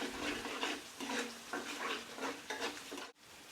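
Masala for matar paneer fried in oil and stirred steadily, a continuous close sizzle with rhythmic scraping strokes, cut off briefly near the end.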